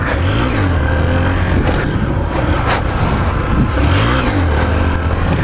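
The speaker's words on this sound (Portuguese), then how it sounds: "será que eu vou conseguir empinar na Fanzinha" A Honda Fan motorcycle engine revs up and down twice in rising, falling swells during a wheelie attempt, loud and close against heavy wind buffeting on the microphone.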